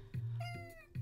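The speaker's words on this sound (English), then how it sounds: "Welcome to Half Moon Island, an island of wholesome cats." A cartoon cat meows in a cozy indie cat-island role-playing video game, one clear, close meow with short chirpy sounds on either side, heard alone.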